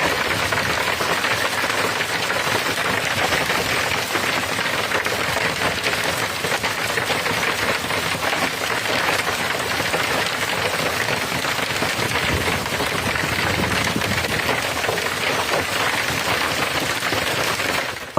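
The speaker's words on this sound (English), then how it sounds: "with pea-sized hail hitting the town." A heavy storm brings torrential rain and pea-sized hail onto a town. The hiss of pounding precipitation is loud, dense and unbroken, with no voices.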